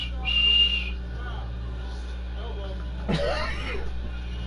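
A referee's whistle blows sharply in a PS4 basketball video game, one bright blast near the start over steady game crowd ambience and commentary, followed later by a brief burst of arena noise.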